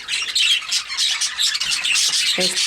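Pet birds in a breeding cage squawk in quick repeated bursts, loud and close, with shrill overlapping calls filling the whole stretch.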